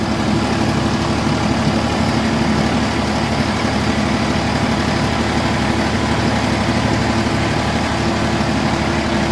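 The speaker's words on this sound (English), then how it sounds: "I just use the bucket on the front end loader. It scrapes it off decent." Tractor with a front end loader bucket scraping ice off a surface, a steady loud diesel engine drone with continuous rumbling and grinding running unbroken throughout, close by and with no talking.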